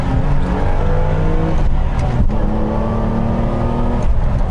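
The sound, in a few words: car engine revving during heel-toe downshift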